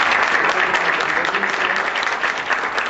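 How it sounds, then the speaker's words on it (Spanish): Dense, continuous applause from a seated audience honours the speakers at a formal event, loud and even throughout the short stretch with no pauses. "pues un aplauso para los ponentes"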